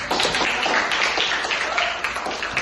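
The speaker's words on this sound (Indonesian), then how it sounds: "tepuk tangan dulu" Quick, dense clapping from a group of students in a classroom during a science lesson, loud and close, with steady burst-like claps filling the whole stretch.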